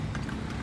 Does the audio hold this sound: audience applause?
no